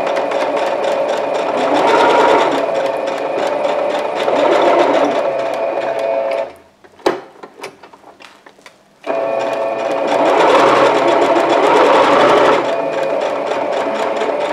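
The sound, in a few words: sewing machine sewing the edges of an oven mitt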